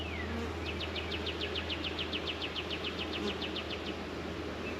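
Honey bees at the hive hum in a steady, close drone throughout, with a rapid series of short, bright chirps or clicks running over it for a few seconds.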